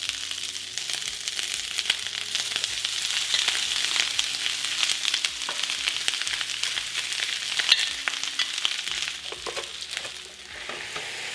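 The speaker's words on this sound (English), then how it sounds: "We're going to put in our stuffing to make some stuffing waffles" Stuffing sizzles and crackles steadily in a hot waffle iron, a continuous close frying hiss with small pops and a faint tonal hum underneath, no voices.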